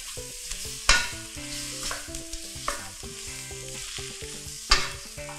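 Shrimp and squid stir-frying in a wok for fried rice, a loud hissing sizzle punctuated by sharp metallic spatula clangs, with steady tonal background music throughout.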